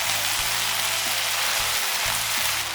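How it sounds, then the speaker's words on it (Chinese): Homemade Laoganma-style chili sauce with fermented black beans stir-frying with chicken in a hot wok for kung pao chicken, giving a steady, close, dense sizzle with a low hum underneath throughout. "辣椒酱很快就炒出红油了"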